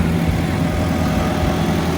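A road roller engine runs during road asphalting, a steady low mechanical rumble at constant loudness, close and without talk.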